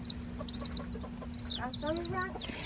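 Chickens clucking and chirping in quick bursts close by, fairly faint against a steady background hum.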